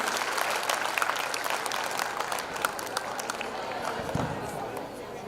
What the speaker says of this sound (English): A thunderous round of applause, dear audience.